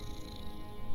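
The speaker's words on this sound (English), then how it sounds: "He's purring." A cat purrs steadily in the game Enchanted Stories 2, a soft continuous low rumble running throughout with no talk over it.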